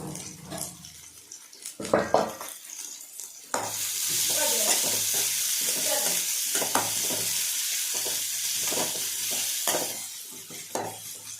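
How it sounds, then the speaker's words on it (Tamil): Big onions hit hot oil in a pan with a sudden loud sizzle that keeps crackling steadily while a spoon stirs and scrapes in repeated strokes, after some quieter clatter of utensils before the sizzle starts. "அப்போ இந்த பெரிய வெங்காயம் போட்டுக்கலாம் நல்லா செவக்கட்டும்"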